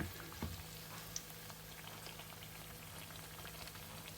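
White bread filled with chocolate and banana fries in hot oil over medium heat, a faint, steady crackling sizzle with scattered small pops.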